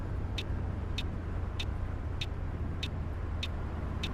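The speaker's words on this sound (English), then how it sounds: "There goes our mate in the VDL double-decker that decided to swing out in front of us." A VDL double-decker coach in Fernbus Coach Simulator hums past under a steady, low engine drone, with faint, evenly spaced ticks repeating over the rumble.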